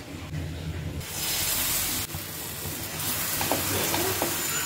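Spinach and wheat flour dosa batter poured onto a hot dosa pan, bursting into a loud, steady hiss and sizzle after a quieter second, with faint scraping and small ticks as it cooks.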